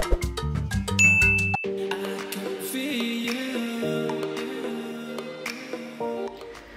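A notification bell sound effect gives a short, bright ding early on, set against background music.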